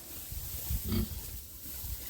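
A farm pig at feeding time gives one short, close grunt midway through, surrounded by low background noise and no talking.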